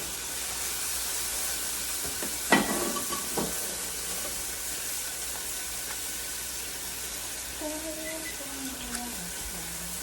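Turkey burgers fry in a pan with a steady, even sizzle that fills the whole stretch, broken by a couple of sharp clinks and faint scraping. A voice briefly murmurs underneath.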